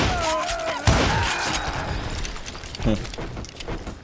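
Gunfire in the Western shooter Call of Juarez Gunslinger: a sharp shot followed by ringing reverb and a second, lighter report a couple of seconds later over steady game ambience.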